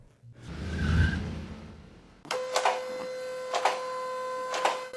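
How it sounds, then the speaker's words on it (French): A vehicle lift raising a GMC Canyon pickup truck in a workshop: a low rumble first, then a steady mechanical whine with periodic clicks and clunks, fairly close. "On va lever la voiture maintenant."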